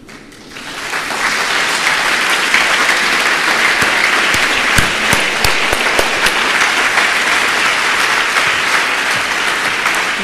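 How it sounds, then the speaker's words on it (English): Sustained applause from a large audience welcoming a guest onstage at a sustainable fashion event, building quickly to a dense, steady roar of clapping that holds for about ten seconds, with a few sharper claps standing out. "Please welcome him and applaud him."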